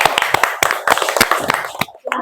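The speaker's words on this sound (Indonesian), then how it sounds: "Ya, tepuk tangannya dulu." An audience claps together in a classroom-style gathering, a brisk burst of loud hand claps that thins out and stops, followed by a brief spoken word.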